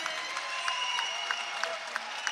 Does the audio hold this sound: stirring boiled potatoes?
no